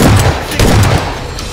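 Gunfire in the battle royale game PlayerUnknown's Battlegrounds: two heavy booming shots about half a second apart, loud and close, with a rumbling tail and no talk over them.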